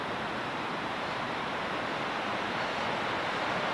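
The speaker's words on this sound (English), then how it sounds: "let's walk up to the Whitewater Falls" Steady, dense roar of Whitewater Falls in North Carolina, a tall waterfall heard as continuous broadband rushing noise with no pauses, loud and unbroken from start to finish.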